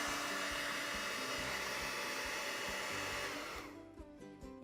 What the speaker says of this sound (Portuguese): Vou deixar secar ou vou pegar o secador de cabelo, que é um grande aliado nessa hora.